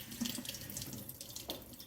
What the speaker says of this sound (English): you can see the water coming through clear at the bottom, which is exactly what you want to see when you rinse anything from a can